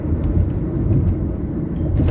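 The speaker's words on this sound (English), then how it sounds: "that flood of cars from the west is coming into town now" Steady stream of cars driving into town from the west, a continuous close low rumble of traffic with a few brief passing swells, no talk.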